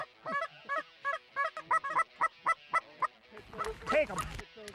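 A flock of Canada geese honking in a quick repeated series of calls, then a louder, overlapping burst of honks and wingbeats close by.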